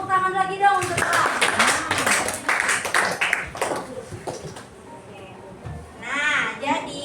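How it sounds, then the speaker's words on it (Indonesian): A class gives a student applause, a ragged burst of children's clapping mixed with young voices, fading out before someone speaks near the end. "Untuk tepuk tangan lagi dong untuk Elang."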